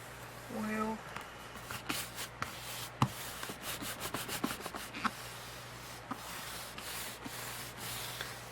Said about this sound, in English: We're going to rub this down really, really